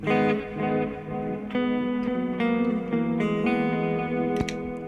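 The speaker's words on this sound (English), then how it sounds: "This is what the amp sounds like with just a reverb and a delay." An electric guitar plays a sequence of ringing notes through an Orange Micro Dark Terror amp with Groove Tube 12AX7 preamp tubes, each note trailing off in reverb and echoing delay repeats.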